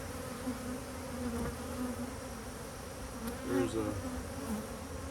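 Honeybee drones trapped above a queen excluder in a hive buzz in a steady, close drone for the whole stretch, with a few louder swells as individual bees pass near.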